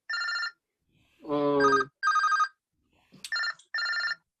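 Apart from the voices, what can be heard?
phone ringing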